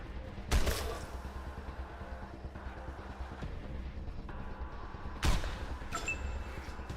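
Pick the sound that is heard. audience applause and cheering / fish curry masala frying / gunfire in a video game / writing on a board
gunfire in a video game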